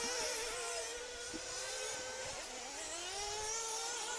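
Nitro RC buggies race at a European championship, several small engines whining and buzzing in overlapping high pitches that rise and fall as the cars accelerate, heard from a distance without speech.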